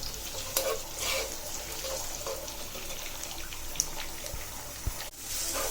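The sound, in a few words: onion, garlic and green chili frying in a pan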